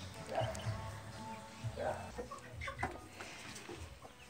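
A broody hen sitting on eggs clucks in low, soft bursts among other faint farmyard noises, with a voice murmuring quietly nearby.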